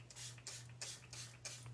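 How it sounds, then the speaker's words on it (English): A spray bottle mists water onto watercolor paints to activate them, three or four short airy hisses in quick succession over a low steady hum. "I'm taking my water and I'm going to spray it"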